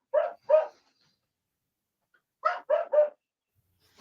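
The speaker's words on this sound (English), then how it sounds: "A lot of bark out of a 14-pound dog" A small 14-pound dog barks sharply and nearby, two quick yaps, a pause of about two seconds, then a rapid run of three more and the start of another, with no talk over them.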